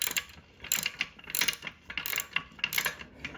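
A ratchet wrench tightens a self-locking nylon-insert nut while an Inspire Fitness FT1 bench is assembled, with rapid clicking pawl strokes in several short bursts, close and clear, and no talking.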